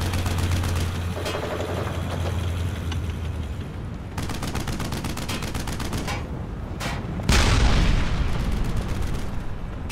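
Intense battle din in Brothers in Arms: Hell's Highway: continuous close machine-gun chatter and rifle fire with heavy booming explosions, one big blast near the end, and no talking.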